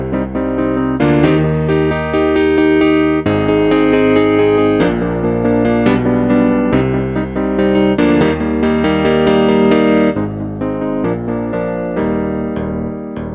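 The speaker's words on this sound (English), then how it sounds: "That is the sound of a CP80" A Yamaha CP4 stage piano plays its CP80 electric grand voice, modeled on Yamaha's 1970s–80s electric grand, with bright, bell-like chords and a busy melodic line, loud and close with no one talking.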